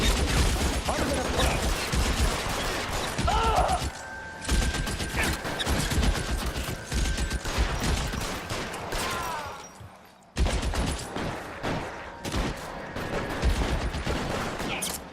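Gunfire in L.A. Noire, dense bursts of shots and rapid fusillades crackling almost continuously, loud and close, with a short lull before firing resumes.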